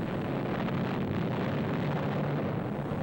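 Nuclear test bomb detonation in the Pacific seen from ships, a sustained heavy low rumbling roar that holds steady and loud throughout, with no voices.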